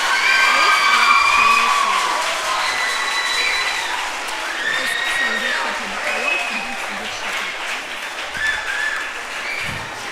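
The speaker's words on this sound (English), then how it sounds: "why don't you clap for them?" An audience in a hall applauds the contestants of a STEM quiz semi-final, a sustained, fairly loud burst of clapping with some cheering and raised voices mixed in, fading slightly toward the end.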